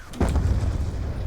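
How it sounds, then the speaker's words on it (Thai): A mortar explosion in Call of Duty Black Ops 2, a single sudden deep boom that hits sharply and then rolls out into a rumbling tail, loud and close, with no speech. "เอาระเบิดมอต้ามา"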